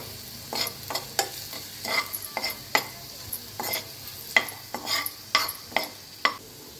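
Salted bitter gourd slices crisp in oil in a pan while a spoon stirs in quick repeated strokes, each scrape sharp over a soft background sizzle; no one speaks.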